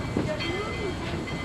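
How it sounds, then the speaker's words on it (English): A heritage train rolls along the reconstructed Georgetown, Breckenridge and Leadville Railroad, giving a steady, moderately loud rumble with a continuous hiss and faint tonal squeals, no distinct clacks standing out. "The railroad you are riding on today is a reconstructed portion of the old Georgetown, Breckenridge, and Leadville Railroad"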